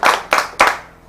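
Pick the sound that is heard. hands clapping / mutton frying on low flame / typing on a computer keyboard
hands clapping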